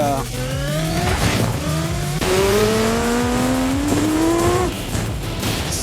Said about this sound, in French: Arrête de conduire comme si t'étais dans un film